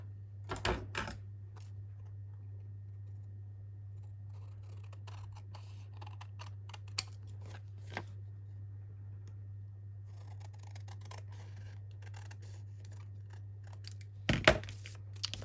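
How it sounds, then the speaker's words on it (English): Scissors trim excess paper off an envelope in a few quick snips near the start and again near the end, close and quiet, over a steady low hum with small handling taps between. "And then I'll just trim that excess off."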